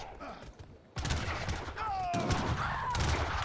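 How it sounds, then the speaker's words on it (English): Cannon fire in a battle within a real-time strategy game comes as a dense crackle of repeated shots. It turns louder after a short lull and continues steadily under the din of battle and possible voices. "Still one cannon alive, gets one volley off before going down here."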